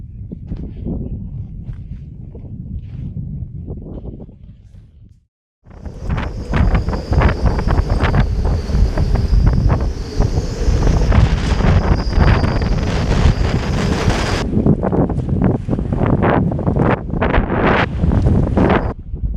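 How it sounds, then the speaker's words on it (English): Strong gusty katabatic gale roars and buffets the microphone in Greenland winter storm, loud and continuous after a brief quieter stretch, with rumbling low-end turbulence throughout. "Okay, the gale is here and it is getting windy."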